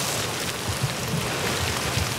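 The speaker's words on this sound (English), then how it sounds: "but not before a bit of a rain delay" Rain pours steadily outdoors during a stop in riding at a US Cavalry School, a dense, even hiss of falling drops with faint low patters, close and continuous with no talk.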